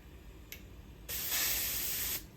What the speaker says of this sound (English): that's way better spray pattern